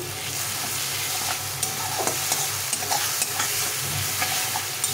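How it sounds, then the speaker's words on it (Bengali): Ground spice paste with black cumin being stirred and sautéed in hot oil in a pan, a steady sizzle broken by repeated scraping strokes of a spoon against the pan, close up with no voices. "এই বাটাটা দিয়ে দেবো। এটাকে ভালো করে কষিয়ে নিতে হবে।"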